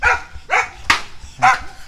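Dogs bark close and loud at a park in a quick run of sharp barks, with a higher yelp mixed in.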